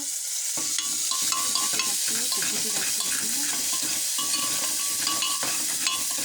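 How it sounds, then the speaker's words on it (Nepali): Onion frying in a pan with turmeric and cumin-coriander paste, a steady close sizzle punctuated by the repeated scrape and clink of a spoon stirring against the metal. "अलिक बेर भुट्न पर्छ है, यसको बेला टेस्ट आउँछ।"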